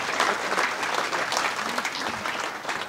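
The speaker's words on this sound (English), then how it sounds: "Big round of applause for the coaches." A crowd claps steadily and enthusiastically at an Australian football umpires' presentation night, dense applause filling the room without pause.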